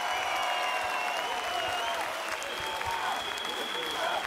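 Sustained applause at a Turkish political rally honoring Mansur Yavaş, a dense steady wash of clapping with crowd noise and a faint tonal whistle-like hum running through it.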